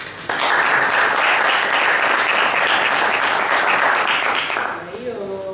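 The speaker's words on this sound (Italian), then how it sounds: "Un applauso." A seated audience at a talk in Jesi breaks into loud applause for the municipal social services councillor, a full burst of clapping that starts abruptly, holds steady and fades near the end as a voice begins.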